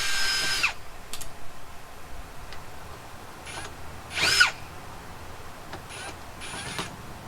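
Power drill driving screws into the wooden frame of a greenhouse: quiet, short whirring bursts separated by pauses, with a louder burst near the middle and faint clicks between them.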